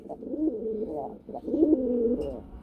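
A fancy pigeon gives two close, soft, rolling coos one after the other, with low background noise.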